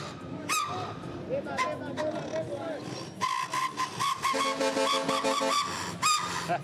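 Loud, shrill whistling blasts from a whistle fitted in a Kenyan bus exhaust, several pitched tones sounding in bursts and sustained calls, harsh and close, with traffic noise underneath.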